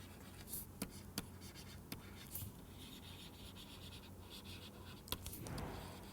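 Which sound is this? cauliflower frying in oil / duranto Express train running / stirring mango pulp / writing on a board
writing on a board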